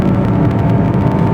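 An Audi Q5 compact SUV engine pulls hard under acceleration, a loud, sustained roar that holds steady through the short burst as it revs toward a 6000 rpm shift.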